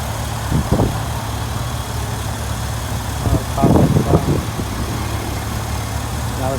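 A Chevy Silverado pickup engine fitted with a K&N air intake idles with a low, steady rumble, then swells briefly in two short revs.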